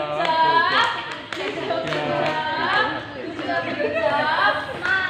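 A classroom of students clapping hands during a team-teaching lesson, light claps mixed in with lively chatter and a teacher's voice talking over them throughout.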